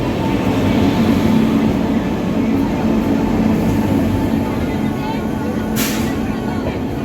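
The Darjeeling Mail rolls into a station with a steady low hum and drone, loud and continuous, with a short burst of hiss near the end.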